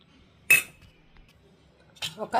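Bajji batter with baking soda, ajwain, turmeric and chili being stirred in a bowl, heard as a sharp utensil clink, then a few quick scraping clinks after a quiet pause.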